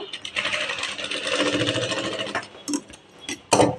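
A sewing machine stitches a dress neckline at slow speed, giving a steady mechanical whirr for a couple of seconds, then short bursts with pauses, close and clear with no talking.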